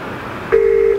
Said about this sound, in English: So you'll hear the ringing sound.